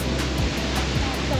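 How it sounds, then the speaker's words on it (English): Ocean surf rolling onto a clean tropical beach in Port Barton as the tide rises, a continuous loud wash of breaking waves close by with rhythmic surges. "These waves are getting higher and higher."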